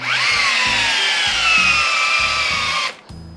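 A Metabo LTX cordless drill-driver runs continuously, driving a large screw, its motor whining steadily with rising pitch, then cuts out abruptly near the end with a brief high tone after. Light knocking accompanies it underneath.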